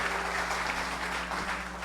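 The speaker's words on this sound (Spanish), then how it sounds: "Give him the big round of applause." Congregation applause at a Spanish-language church service: steady dense clapping fills the whole stretch at an even level, with a low sustained musical hum beneath it.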